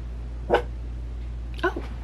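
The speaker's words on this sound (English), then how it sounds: "the puppy needs to get out" A puppy gives two short, high yips or whimpers about a second apart, fairly close, over a steady low hum with no talk.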